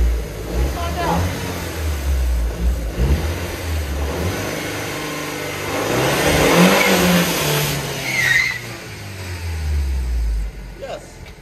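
A 2008 Audi A4 2.0 Quattro, all-wheel drive, revs hard and accelerates while spinning all four tires, its mid-pitched engine rising and swelling loudly near the middle before easing off, with people talking over it.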